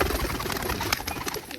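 Rajshahi pigeons at a home loft give soft cooing calls amid a busy wash of bird sounds, close and continuous for a brief moment.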